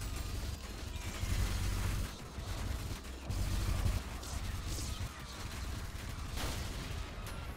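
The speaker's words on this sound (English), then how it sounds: "And this was a nice explosion." Explosions and dense gunfire from the video game Ultrakill form a continuous, quiet, noisy barrage of bursts and crackles, with no voice over it.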